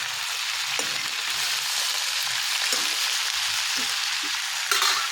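Vegetables added to a pan with browned chilies fry with a constant loud sizzle, while a spoon stirs and scrapes against the pan at irregular moments.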